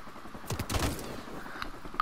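A short, close burst of rapid gunfire on the Crash map of a shooter game, a quick rattle of shots cutting through a quiet background before fading out.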